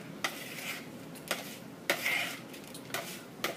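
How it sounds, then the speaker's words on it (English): Ground meat mixture for tater tot casserole is stirred and folded with a utensil in a pan, giving soft, close scraping strokes in an uneven rhythm of about five pulses over quiet background. "you want to go ahead and just stir this up really well"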